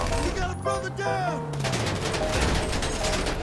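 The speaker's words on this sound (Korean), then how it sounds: "방금 왔는데 총 쏘고 난리 났네, 이거" Rapid gunfire in GTA5 rattles in a continuous fusillade through the second half, preceded by a brief voiced game sound and background noise, loud and close.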